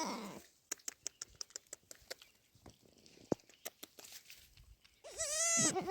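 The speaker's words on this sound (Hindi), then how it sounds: "ये हमारे यहाँ पे मासी जी चाचा जी की बकरी है" Goat bleating, a mother goat with two newborn kids in a rural family setting; a bleat opens the clip, then light patter and soft clicks, before a loud, wavering bleat closes it.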